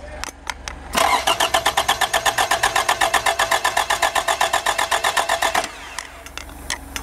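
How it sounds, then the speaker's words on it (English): A car engine cranks steadily on the starter during a compression test, a fast even chugging rhythm lasting several seconds after a few clicks, then cutting off; loud and close, no talk. "we're doing a compression test. Make sure the motor's up to par here."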